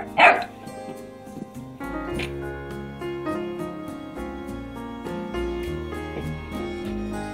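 A Labrador puppy barks and yips amid steady background music, with a louder burst near the start and small sounds scattered through the rest.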